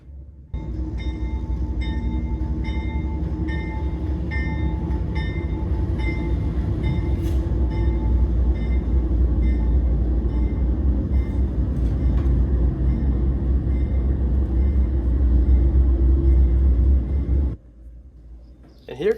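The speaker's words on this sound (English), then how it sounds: "here comes another train or two about to sneak through town" A train rumbles past close by through a Kentucky town, a loud steady roar with rattling wheels and a high metallic whine, cutting off abruptly near the end.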